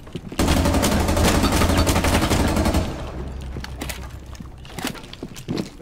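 Sustained automatic gunfire in a shooter game roars loud and continuous for a few seconds, then thins into scattered shots and footsteps with little talk.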